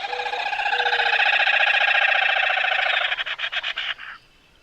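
Black rails calling in a duet, two birds trading notes in a rapid, loud, trilling stream that breaks into quick separate pulses near the end before stopping.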